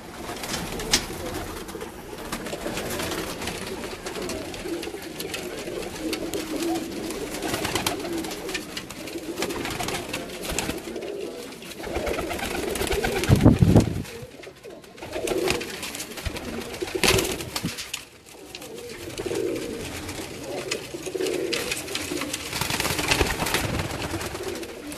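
Pigeons in a loft of swing-breed birds coo over and over in soft, rounded calls, close and continuous, with rustling and low background noise throughout.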